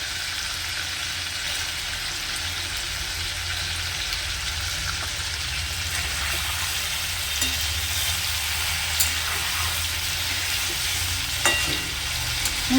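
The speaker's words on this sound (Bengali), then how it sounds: "চিকেনটা সামান্য ফ্রাই করে নেব।" Chicken pieces fry in a pan for a garlic green chilli dish, giving a steady, moderate sizzle with a few faint clicks and taps as they are stirred.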